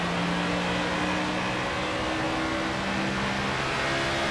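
A NASCAR race car engine drones loud and sustained at high revs around Michigan's track in NASCAR 25, a steady in-car roar with slight pitch shifts and no voices.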